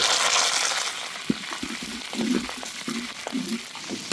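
Cinnamon and cloves fry in coconut oil over medium heat, a soft steady sizzle broken by small taps and clinks of a spoon stirring in the pan, close and fairly quiet.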